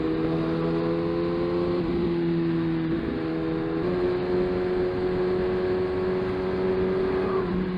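A Suzuki GSXR1000R motorcycle engine drones steadily while riding, its pitch shifting slightly a few times, loud and close with no voices.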